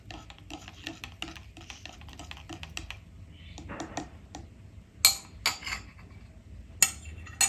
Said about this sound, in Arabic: هي تقريبا ملعقة من ملح الطعام، نحركها